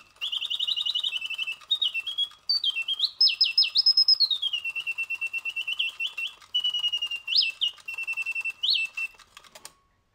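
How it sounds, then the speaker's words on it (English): A solid silver German singing bird automaton box, a Tabatiere, chirps and trills in a long run of bright whistled phrases with rapid warbles and rising sweeps, close and clear, ending with a faint mechanical click. "There, the Singing Bird Tabatiere."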